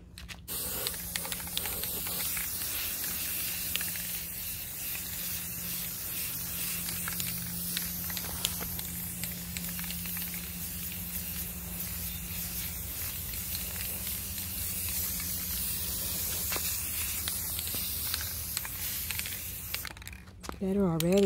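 A Rust-Oleum spray paint can with a comfort spray tip hisses in one long, steady, continuous burst while wrought iron is being refinished, close and fairly loud, with a low hum underneath and a brief clatter at the end.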